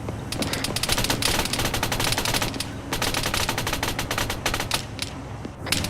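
Sustained machine-gun supporting fire in the military shooter ArmA 3, dense rapid bursts of automatic rounds rattling almost continuously and loud throughout, with only brief gaps between strings of shots.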